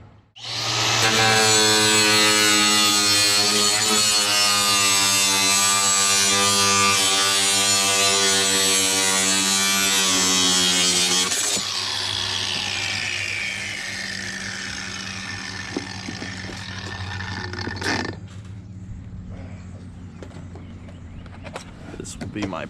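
A loud, close power tool buzzes through vinyl siding on a dormer for about eleven seconds, then winds down. Scraping and handling sounds follow.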